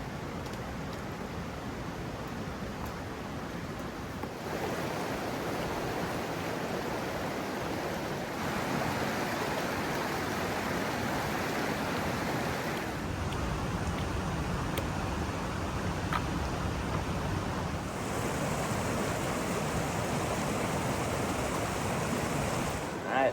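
Woods Creek flows past a quiet, shaded lunch spot on the Rae Lakes Loop in the Sierra, a steady broadband rush of running water that holds constant and close throughout with no voices.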